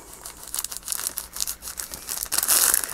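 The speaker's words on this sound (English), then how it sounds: "It's the sound of the paper" Paper crinkling and rustling in irregular bursts, close by, with a louder crumpling stretch near the end; no voices.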